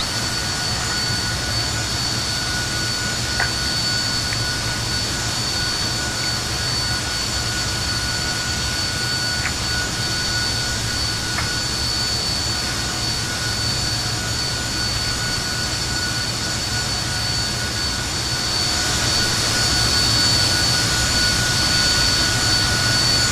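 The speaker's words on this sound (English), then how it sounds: "We have a good engine start." A Just Flight F28 Professional airliner jet engine running in Microsoft Flight Simulator: a loud, steady roar with a constant high whine, continuous and unbroken throughout, swelling slightly louder near the end, with no talk.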